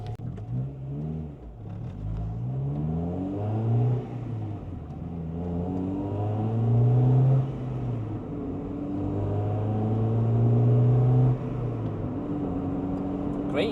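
A 1998 Honda Integra Type-R DC2 engine on a road drive after a clutch replacement, rising and falling through several gear pulls with steady harmonic drone, moderately loud and continuous from the cabin.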